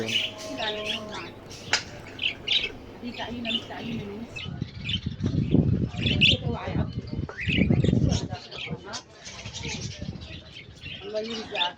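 Birds squawking and chirping in irregular bursts, fairly close, with people talking over them in the second half.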